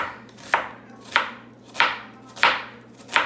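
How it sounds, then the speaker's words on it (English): A knife slices food into thin pieces on a cutting board while beef rouladen is prepared, five crisp, evenly spaced cuts, close and loud, with no talking. "I'm just slicing it into really thin little pieces like that"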